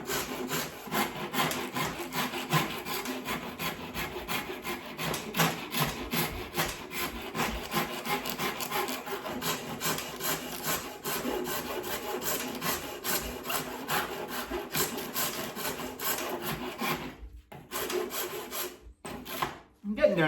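Rasp shaping a wooden Irish stick, a continuous dry scraping of steady back-and-forth strokes, close and fairly loud, running without pause until a few brief breaks near the end.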